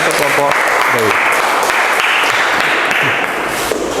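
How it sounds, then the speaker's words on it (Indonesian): Applause from an audience at a classroom group presentation, steady and dense throughout with some voices mixed in. "berikan tepuk tangan untuk kelompok Dewi."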